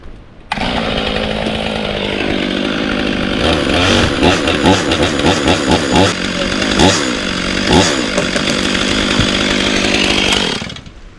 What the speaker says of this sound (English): I'm gonna cut it here and sort of work it till it's standing up and then we can push it off